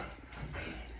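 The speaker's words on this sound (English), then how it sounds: "That's my dog Blue." A dog whimpers briefly and faintly, a soft, short whine over a hissy background with no talk.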